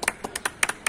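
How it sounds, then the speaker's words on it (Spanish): People clap from balconies during a quarantine evening: a faint, uneven run of about eight sharp handclaps within a second, distant and scattered rather than a full ovation. "Está aplaudiendo con los concejales"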